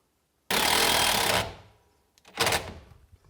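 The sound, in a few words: screwing a bracket into place on a dust collector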